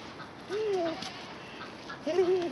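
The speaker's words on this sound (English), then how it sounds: "There's a duck in the goat pen." A duck quacks inside a goat pen on a farm, one short run of quacks early and another near the end, fairly quiet, with background ambience between.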